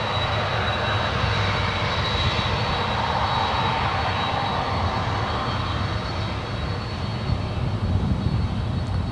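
A FedEx jet at San Francisco International Airport gives off a steady, loud roar with a thin high whine above it, holding unbroken throughout with no voices.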